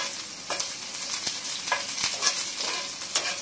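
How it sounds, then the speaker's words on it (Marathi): Curry leaves and slit green chillies fry in hot oil with a loud, close crackling sizzle, punctuated by several sharp spatter pops and quick stirring scrapes through the short stretch. "कढीपत्ता घालूया आणि 2 मिरच्या उभ्या चिरून घालून घेऊया आणि त्याला अर्धा मिनिट आपण चांगलं फ्राय करून घेऊ"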